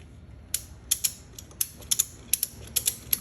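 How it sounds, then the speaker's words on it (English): A ratchet clamp clicks in quick, irregular bursts of sharp metallic ticks while compressing a Tesla Model 3 control arm, close and crisp against a quiet garage background. "So I'm gonna use the ratchet clamp again"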